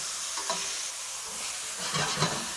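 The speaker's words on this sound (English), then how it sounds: "Now, for 4 minutes, I'm going to do some stir frying." Chicken sizzles in a pan as it is stir-fried, a steady hiss broken by a few scraping stirs, close and without talking.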